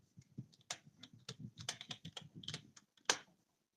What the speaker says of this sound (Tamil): டைப் பண்ற சவுண்ட் இங்க கேக்குதியா?